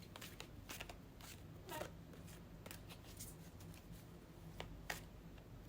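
Oracle card deck being shuffled, a quiet series of papery riffles and snaps with short pauses between bursts and no talk.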